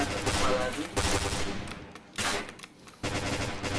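Gunfire in the PointBlank shooter game: dense bursts of rapid automatic fire, loud and close, with short gaps between volleys and a voice talking briefly over it.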